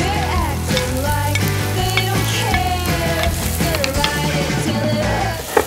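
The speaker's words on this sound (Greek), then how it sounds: "Βάζουμε σε ζεστό τηγάνι λίγο ελαιόλαδο και ρίχνουμε μέσα το σκόρδο, το φρέσκο το κρεμμύδι και τη λιαστή ντομάτα." Garlic, fresh onion and sun-dried tomato frying in olive oil in a hot pan, a steady close sizzle with stirring and utensil clatter running through.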